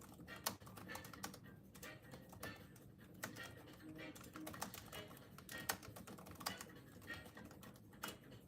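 Fast typing on a computer keyboard, bursts of light clicking keystrokes in an irregular rhythm, close and fairly quiet, with faint background noise.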